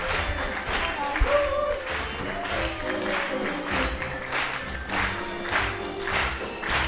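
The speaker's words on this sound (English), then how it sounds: "let's have our criminals stand and take your applause" Audience at a stage show applauding the performers, a sustained wash of clapping at moderate distance with some cheering and music mixed in.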